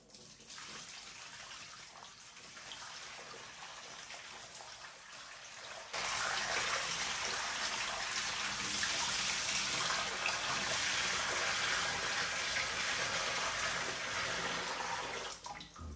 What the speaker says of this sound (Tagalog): Simulan natin ang paglalagay ng tubig. So ayan mga katribo, lagyan na natin ng tubig.